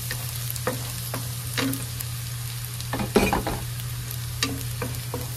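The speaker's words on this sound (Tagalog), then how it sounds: "Nagpainit na ako ng mantika at ilalagay na natin yung, igisa na natin yung bawang." Garlic sautéing in hot oil for pininyahang manok, a close, dense sizzle over a low steady hum, broken by intermittent scraping stirs and crackles, with no talking.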